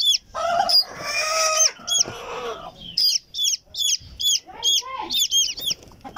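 Silkie chicks make rapid, high-pitched peeps and chirps in quick bursts, close and fairly loud, with a short stretch of talking and other noise early on.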